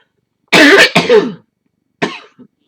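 A few harsh, close coughs in a quick cluster, a pause, then one shorter cough with a small throaty catch.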